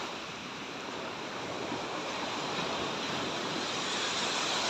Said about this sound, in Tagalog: Baud-baud mga kapusing ang kabuntagon. Oh, kusog-kusog po ng baud.